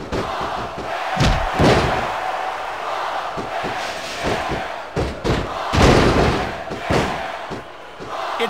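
Wrestling arena crowd in the Smackdown vs Raw 2006 video game roars steadily throughout, broken by loud thuds and slams of in-ring impacts, with occasional louder swells of cheering.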